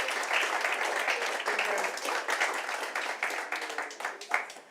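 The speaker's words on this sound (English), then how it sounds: "Big round of applause for Keita." An audience applauds at a regional barista championship heat, steady dense clapping that swells early and then thins out toward the end, with a bit of speech mixed in.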